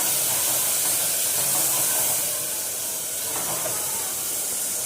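Spices tempering in hot oil for a Gujarati potato rice dish, a steady, loud hiss and sizzle with no pauses that eases slightly partway through.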